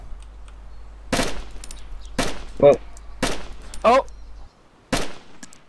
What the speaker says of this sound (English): Yeah, I tried to shoot him!